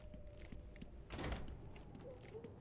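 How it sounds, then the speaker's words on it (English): A door opening in the video game Batman Arkham Origins, a single soft thudding swish in the middle of the clip over a quiet, low ambient hum. "Let's go through another door."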